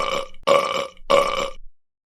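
Cartoon character burping three times in quick succession, loud, close and drawn-out belches with short gaps between them, then silence.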